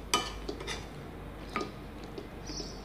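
Chicken curry being stirred in a pan, with a spoon or spatula clinking and scraping against the metal in a few sharp taps and soft scrapes, close and fairly quiet.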